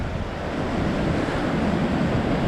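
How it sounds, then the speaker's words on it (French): Waves break on rocks along a storm-battered Brittany shore, making a dense, steady roar of surf with wind rushing across the microphone and no voices. "les vagues qui se déferlent sur les rochers là-haut"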